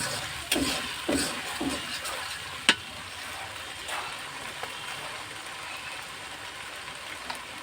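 Spice paste stir-frying in a pan for a snakehead fish, potato and bitter gourd curry, a soft steady sizzle with a few sharp scrapes and clinks of a spoon early on, then quieter frying.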